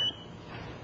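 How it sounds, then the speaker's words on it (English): A computer gives a single short high electronic beep as an automatic logout warning, heard at the very start and then fading into a quiet room hum in a 1982 lecture hall. "I got a beep from something."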